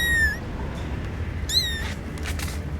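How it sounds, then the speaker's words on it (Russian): A cat gives two short, high meows about a second apart, fairly close, over a low hum inside a Nissan Qashqai. "А ну-ка, мяукни."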